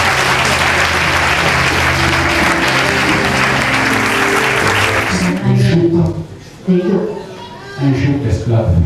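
A church congregation applauds and cheers for Jesus with loud, dense, sustained clapping that stops abruptly partway through. Scattered voices and speech follow at a lower level.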